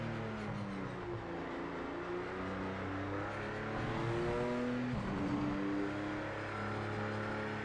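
Race car engine accelerating in the Project Motor Racing video game, a steady droning engine note with rising harmonics, continuous and fairly loud throughout with no talk over it.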